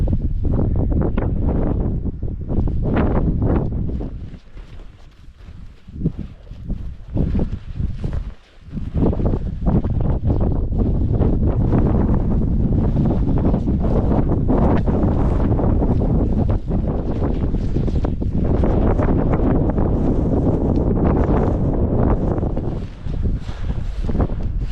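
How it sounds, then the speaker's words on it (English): Strong wind gusting across an open Welsh mountain hillside, buffeting the microphone in loud, rumbling waves that ease briefly and then surge back, with no voices. "it's a little bit breezy"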